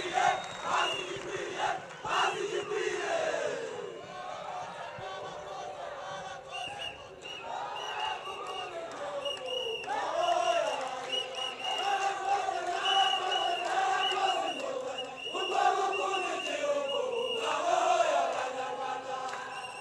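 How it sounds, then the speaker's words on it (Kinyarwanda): A large outdoor crowd roars and chants at a 2024 Rwandan presidential campaign rally in Musanze. The sustained, rising and falling crowd noise continues throughout, with voices shouting in waves. "Mubampera amashyi."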